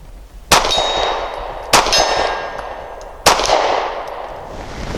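Three sharp, loud shots from a Mossberg MC1sc pistol, each followed by a ringing metallic clang from a steel target, spaced irregularly over a few seconds with a long decaying ring after each.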